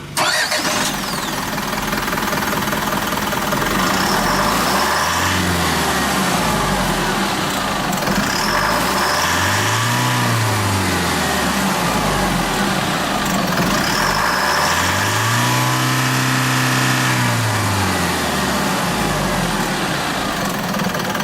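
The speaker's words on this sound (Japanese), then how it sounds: "エンジンは3リッター150馬力、" A 3-liter, 150-horsepower intercooled turbo diesel in a 2016 Isuzu Elf self-loader crane truck runs steadily and loudly, with the engine speed rising and falling in repeated revs.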